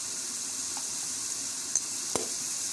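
Palak chicken masala sizzling steadily in a pan, a constant hissing fry with a couple of faint spoon clinks.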